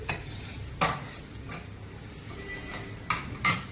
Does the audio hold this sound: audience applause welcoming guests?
no